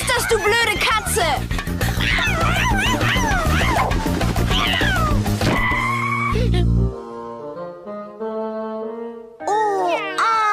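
A cartoon cat yowling in a German children's cartoon, a loud wavering screech amid frantic music and busy effects, followed by a sustained yowl and short cries.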